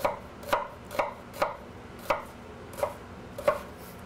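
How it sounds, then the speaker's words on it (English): A knife chops through one onion on a board in a home kitchen, eight or so crisp, evenly spaced cuts landing about every half second, close and clear with no talk. "Just cutting up one onion."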